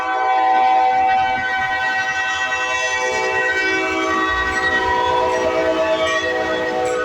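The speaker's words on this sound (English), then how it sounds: "CSX crossing Little Richmond Road here in Trotwood, Ohio." Eastbound CSX freight train blowing a long, loud horn at the Little Richmond Road crossing in Trotwood, Ohio, a sustained close chord held for several seconds over the low rumble of the passing cars.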